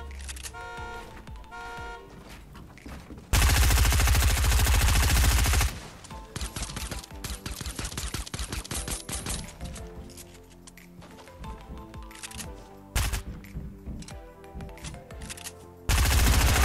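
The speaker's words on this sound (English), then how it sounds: "I think I was getting shot up by someone else." Gunfire in Fortnite, loud bursts of rapid shots and sustained automatic fire broken by short pauses, with a harsh blast near the end and no talking.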